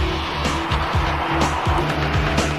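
A 1992 GMC Syclone turbocharged all-wheel-drive pickup accelerates hard, its engine note rising in repeated climbing sweeps through the gears, loud and close, with no talking.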